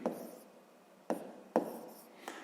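A pen scratches across paper in short strokes while writing fractions for a sixth-grade maths exercise, giving three or four soft, close scratching bursts with quiet pauses between them.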